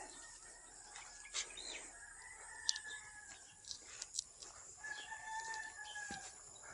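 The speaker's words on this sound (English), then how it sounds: "we got a Mr. Rooster over there. See, he did it on cue" A rooster crows a few times at a distance, faint against quiet outdoor background with other birds chirping.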